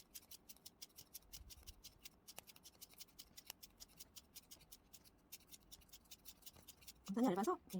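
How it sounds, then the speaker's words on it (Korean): Scissors snip repeatedly through thin banner material with a rapid run of small crisp cuts, close and faint, and a louder rustle of the material near the end. "굉장히 얇아서 가위질로 잘 잘라져요."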